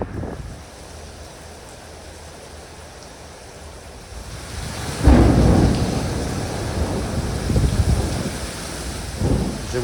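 A thunderstorm with rain on the coast between Cape Coast and Kokrobite, steady rainfall building into a loud rolling thunder burst midway, followed by lingering rumbles over the downpour.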